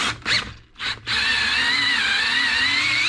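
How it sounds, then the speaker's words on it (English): A power drill runs to tap a threaded hole, first two short whirring bursts, then one steady high-pitched drone held close and loud. "We're using the drill."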